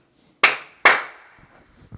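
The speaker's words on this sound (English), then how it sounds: "the double clap signifies the start of an episode" Two sharp hand claps close to the microphone, about half a second apart, each ringing briefly in a small room, opening a podcast episode in near silence.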